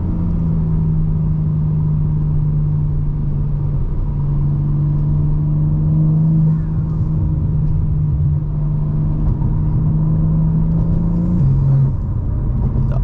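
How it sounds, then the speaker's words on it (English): A 2022 BMW M4 Competition with a tuned transmission accelerating hard, its loud, close engine note climbing steadily and dropping abruptly at quick upshifts, heard from inside with no talk. "The upshifts are DCT type upshifts."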